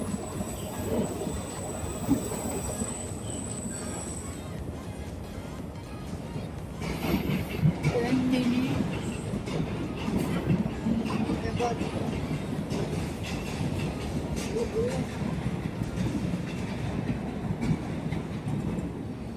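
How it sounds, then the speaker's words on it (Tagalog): A train pulls into a UK station, its wheels clattering and rumbling steadily and close as it arrives, with people talking over the rolling noise. "And the train is here already, everyone."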